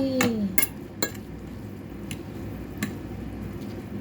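A spoon is lifted out of a dish, giving a few light metallic clinks and taps spaced over a few seconds against a quiet room background.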